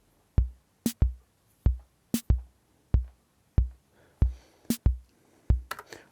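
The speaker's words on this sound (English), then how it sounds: "Now if you would want to add a snare on the second and the fourth beat" A Roland CR-8000 drum machine plays a sparse pattern of deep bass drum thumps with sharp snare cracks landing on the second and fourth beats, crisp and evenly spaced, alone with no talk.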